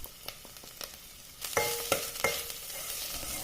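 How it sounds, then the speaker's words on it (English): Finely chopped onion with ginger garlic paste and a pinch of hing sautéing in a pan, giving a soft sizzle with several sharp spoon clinks and scrapes as it is stirred. "1 big onion finely chopped, which I stir in occasionally and saute for a couple of minutes"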